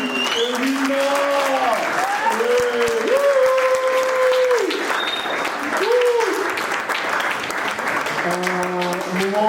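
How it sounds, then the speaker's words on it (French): A crowd applauds and cheers for a couple at a wedding blessing, with steady, dense clapping throughout while sustained tonal voices or music rise and fall over it. "Est-ce qu'on peut faire un tonnerre d'acclamation pour Rudy et Wilma?"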